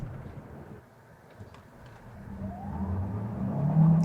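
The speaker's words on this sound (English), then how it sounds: "So I tried to accelerate as fast as I could, and as you have heard from the wheel spin" A 2025 Kia Carnival Hybrid minivan accelerates hard from a standstill with wheel spin, a low engine drone and road roar swelling steadily louder over a few seconds, heard from inside the cabin.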